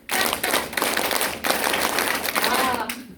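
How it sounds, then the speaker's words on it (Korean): A group clapping together in a fast rhythmic pattern during a meeting break, several bursts of brisk claps at close range filling the whole moment. "박수 시작!"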